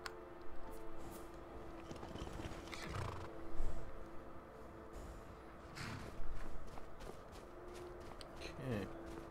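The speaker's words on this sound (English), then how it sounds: "That horse is breathing right in my ear, Earl." A horse in the video game Skyrim snorts and breathes heavily at close range, with hoof clops and shuffling steps amid low ambient noise.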